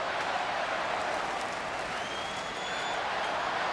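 A sellout baseball crowd at Minute Maid Park, Rangers at Astros in 2012, fills the stadium with a steady, even roar and murmur, faint and distant, with no clear voices on top.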